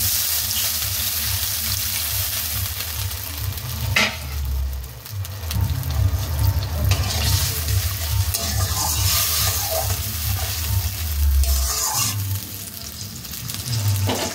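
Water is poured into spices frying in oil for a stuffed pointed-gourd curry, setting off a loud, continuous, bubbling sizzle with stirring scrapes close by. The sizzling runs throughout with no talking.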